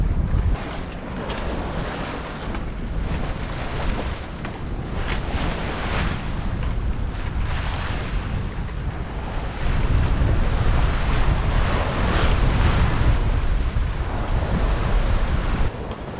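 Wind and breaking sea waves during offshore sailing between the Azores and Madeira, a steady loud rush of wind and surging water that swells and subsides continuously, with no talk.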